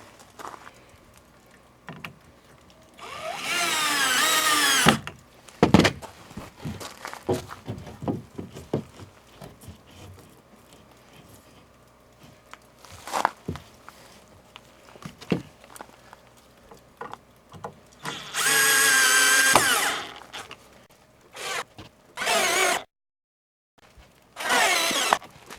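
A power drill drives screws into 2x4 wood fascia on an RV porch cover, with two long whirring bursts and several shorter ones, close and loud, separated by tapping and handling noises.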